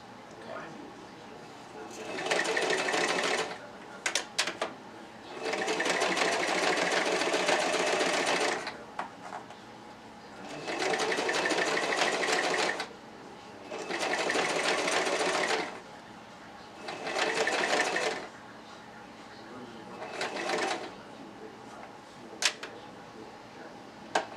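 A sewing machine stitching a wig with the fold-over method runs in several bursts of steady whirring, each lasting a few seconds, separated by short pauses with faint handling clicks.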